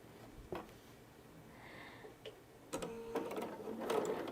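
Sewing machine stitching Christmas quilt pieces, with a brief clatter early on and then a busier run of rapid mechanical stitching rattle in the last seconds, close and moderately loud.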